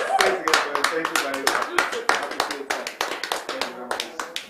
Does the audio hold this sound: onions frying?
no